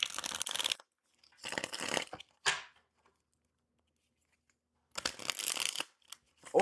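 A tarot deck is shuffled in several short bursts of riffling card flutter, close and crisp, separated by quiet pauses.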